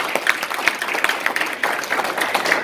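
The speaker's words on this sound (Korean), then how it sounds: "큰 박수 한번 부탁드리겠습니다" An audience in a National Assembly meeting room applauds a lawmaker after his introduction: dense, sustained clapping, fairly close and even in level throughout.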